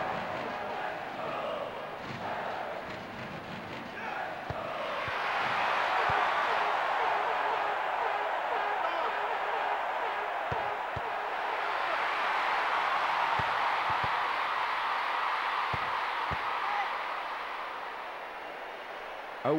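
A stadium crowd in the FIFA Soccer 64 football game cheers after a tackle, a broad, steady roar that swells and stays loud, with scattered soft thuds beneath.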